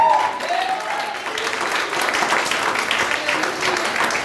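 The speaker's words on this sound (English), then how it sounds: "clap your hands and celebrate your healing" Church congregation at a revival service clapping hands in celebration, a dense sustained roll of applause from a crowd, with voices rising over it.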